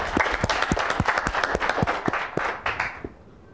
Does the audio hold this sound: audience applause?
yes